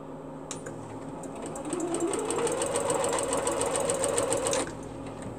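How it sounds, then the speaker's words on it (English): A sewing machine stitches pieces for a double wedding band quilt, a steady rapid mechanical whir that starts, rises in pace and runs for several seconds before stopping, close and fairly loud with no talk. "I'm sewing all of them together"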